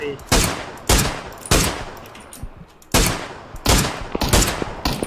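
An MG3 machine gun in PUBG firing loud, close bursts in several separated volleys, each decaying into echo, with brief voices between shots.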